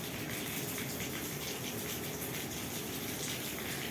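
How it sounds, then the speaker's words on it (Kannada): Heavy rainwater gushes steadily off a house terrace during a downpour, a dense continuous splashing pour heard up close with no voices. "ನಮ್ಮನೆ ಟೆರೇಸಿಂದ ನೀರು ಬೀಳ್ತಾ ಇದೆ."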